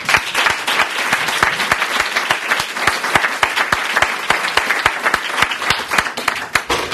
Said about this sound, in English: I'd like to ask for you to give a round of applause to both of them.